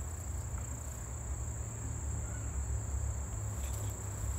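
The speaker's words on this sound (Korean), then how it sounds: "메뚜기가 있습니다." Steady, dense insect trilling fills an outdoor field during insect collecting, a continuous high buzz holding evenly from start to end with no voices.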